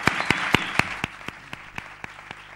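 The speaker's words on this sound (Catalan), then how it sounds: "demano això sí un aplaudiment de tots" Slow, rhythmic clapping at a town festival proclamation ceremony, a handful of sharp distinct claps at roughly even intervals over a faint crowd of applause, the beats gradually softening.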